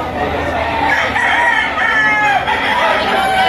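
Banded stags crow loudly at close range at the Lipa gamecock auction market, several overlapping cock-a-doodle-doo calls ringing out one after another amid a dense backdrop of other roosters.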